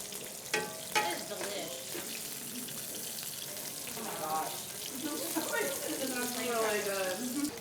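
Sausage sizzles in a pan for paella, a soft crackling fry with scraping and stirring noises, and a voice talks at times over the cooking.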